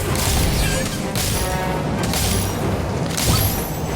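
Harry Potter: Magic Awakened spell effects in battle, a Ventus wind spell among them, making dense booming, crashing bursts that roar continuously at full loudness with sharper surges near the start, middle and end.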